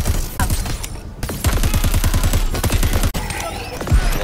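Plasma rifle fire in Crackdown 3, loud rapid repeating shots in dense volleys that run almost continuously, with short breaks and a heavy low thump behind them.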